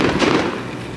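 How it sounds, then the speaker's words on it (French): Fireworks going off outdoors at a wedding: a loud, booming burst that rumbles and crackles briefly, then fades. "On sort, il y a des feux d'artifice, c'est génial."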